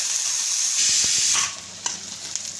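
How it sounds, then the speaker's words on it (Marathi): Onion frying in a pan for a mutton thali spice paste makes a close, steady sizzle, briefly louder in the middle. It then quiets to a softer crackle, with a couple of faint stirring taps. "तर मी आता हा कांदा भाजून घेते"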